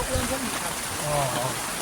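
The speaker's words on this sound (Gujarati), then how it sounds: "વરસાદ ધોમ ધક્કા પડવા માંડ્યો છે" Heavy rain pours down outdoors, making a continuous broadband hiss with people talking over it.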